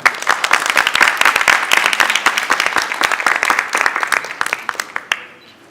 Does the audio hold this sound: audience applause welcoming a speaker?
yes